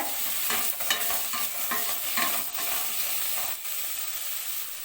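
Garlic, ginger and green chili fry in a pan for sweet corn gravy, a loud close sizzle with repeated scraping stirs of a spatula through the first half, then a steady hiss alone.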